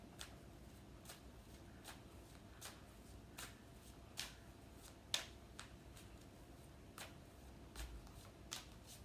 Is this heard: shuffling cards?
yes